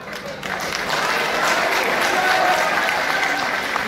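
An audience at a college freshers' event claps after a poet is introduced, rising quickly into steady, dense applause from a crowd that holds for several seconds.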